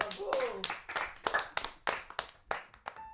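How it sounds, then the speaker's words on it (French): An audience claps for a singer, a sparse run of individual claps with uneven rhythm, close and moderately loud, more scattered clapping than full applause. "On peut peut-être l'applaudir"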